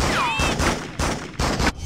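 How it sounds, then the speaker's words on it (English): Bursts of gunfire crackle from a street crime scene in the 2004 Spider-Man 2 video game, three broadband volleys in quick succession with a whistling tone early on, loud and close. "Hey, someone's shooting over there."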